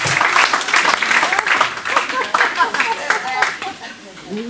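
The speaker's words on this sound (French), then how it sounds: "On peut les applaudir." Applause from a live audience at a spoken arts performance, dense continuous clapping that stays loud throughout and tapers slightly near the end, with a voice briefly heard over it.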